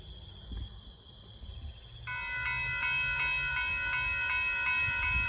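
A northbound Union Pacific rock train approaches at Dittmar Road in Austin, Texas, its multi-tone horn blaring loud and sustained after a quiet rumbling start, held steadily to the end.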